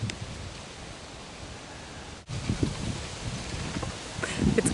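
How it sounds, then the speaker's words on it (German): Wind blowing outdoors: a soft, broad rush that swells louder in the second half, with a brief dip in the middle and faint rustling. "Oh, jetzt geht hier wieder der Wind so schön."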